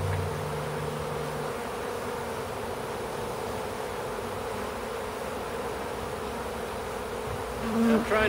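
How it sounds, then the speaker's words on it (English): A honey bee swarm caught from a house buzzes loudly and steadily inside a box. The dense, continuous drone comes from close by and has no voices over it. "there's a lot of bees that want to come in here"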